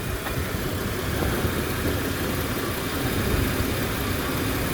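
A 2004 Dodge Dakota quad cab pickup with a 3.7 Magnum engine runs steadily, a constant broadband engine rumble with no pauses and no talk.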